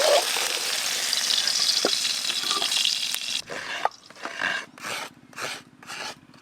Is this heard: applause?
no